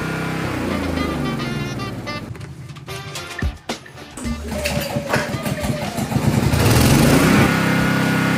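Philking PK200a inverter generator running steadily while its built-in welding machine is used, an engine drone with crackling, sputtering arc noise building in the middle and end, loud and close.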